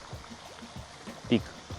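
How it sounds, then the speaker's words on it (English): Water from a fountain pool on a university campus (CSUSB) gives a steady, faint trickling and splashing wash throughout. A brief burst of voice rises over it near the end. "It's just like a water fountain pool area."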